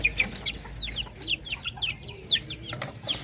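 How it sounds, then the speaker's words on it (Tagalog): Darag native chickens cluck nearby while their chicks let out a rapid run of high, sweeping peeps, close and moderately loud. No one speaks. "So tapos may mga sisiw pa tayo dito, mga darag."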